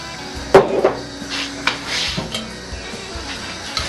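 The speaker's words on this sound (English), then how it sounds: "I'm going to have to give that a stir quickly, because I don't want that burning on the bottom." A spoon stirring pumpkin ale wort in a metal brewing pot on a partial-grain homebrew setup: scattered clinks and scrapes against the pot sides, irregular and fairly close, over a low background hum.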